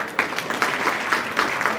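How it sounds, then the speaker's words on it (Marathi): An audience bursts into brief, lively applause for the guest of honour, Swami Someshwaranand Saraswati, at a Gandhi Peace Foundation Nepal award ceremony; dense clapping rises and falls in quick waves. "एकदा सरांसाठी खूप जोरा टाळ्या व्हायला पाहिजे"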